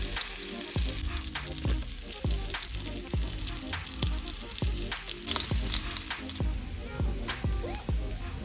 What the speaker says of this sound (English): You want to add some oil here so that your butter doesn't burn.